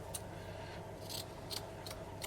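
Scissors snip a length of ribbon from a spool during a Dollar Tree fall farmhouse embroidery-ring craft; a few faint, sharp clicks are spaced about half a second apart over a low steady background hum.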